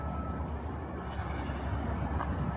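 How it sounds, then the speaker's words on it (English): A GO commuter train passes through downtown Toronto on a weekday morning, a steady low rumble and rail roar holding throughout at moderate distance, with no talk over it. "I hear a train."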